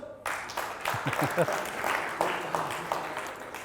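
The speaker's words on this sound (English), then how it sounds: "Round of applause" A burst of applause from a small group, clapping steadily for a few seconds with voices mixed in.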